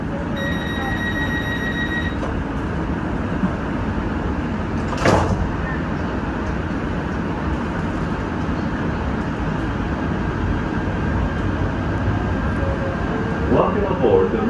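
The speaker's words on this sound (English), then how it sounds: "Stand clear. The doors are closing." A Metro Gold Line light-rail train at a station with steady train rumble and a sharp door thump partway through as the doors close, followed by continuing hum and chimes.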